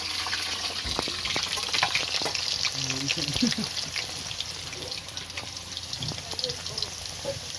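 Potatoes are frying in hot oil in a kadai wok in a Sundarban village kitchen. They make a loud, steady sizzle with scattered crackles and occasional clinks of stirring, and a voice is heard faintly underneath.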